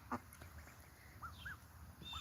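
Young ducklings give soft, faint peeping quacks, several brief calls scattered over a quiet indoor background.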